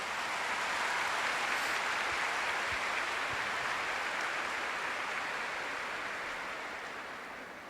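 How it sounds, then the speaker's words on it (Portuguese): A large church congregation applauds in a dense, sustained roar of clapping that holds steady and then slowly fades toward the end. "Aplauda essa palavra maravilhosa."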